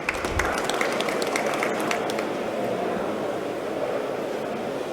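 Audience applause at a healthcare IT trade-show talk, a steady wash of clapping from a crowd with a little speech mixed in at the start.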